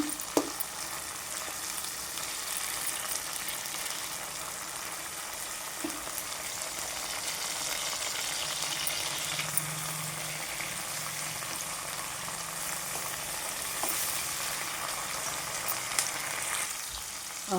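Onions sautéing in a pan, a continuous moderate sizzle with occasional clinks of stirring, steady and close with no speech.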